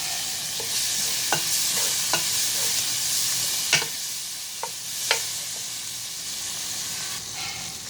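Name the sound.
shrimp paste added to sizzling pan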